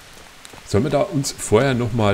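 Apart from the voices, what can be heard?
rain in video game Kingdom Come Deliverance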